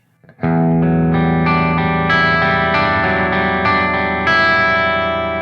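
A distorted electric guitar plays a short riff of sustained, ringing chords that change every half second or so, loud and up close.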